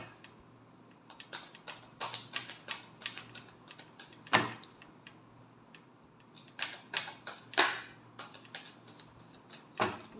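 A deck of tarot cards is shuffled close by in quick bursts of soft riffling and slapping, broken by short pauses, with no talking.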